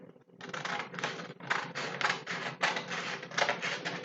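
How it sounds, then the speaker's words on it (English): Scissors snip steadily through a colored paper cootie catcher, a run of close, dry cutting strokes in quick bursts with brief pauses, alone and fairly loud. "now I'm gonna cut it out here"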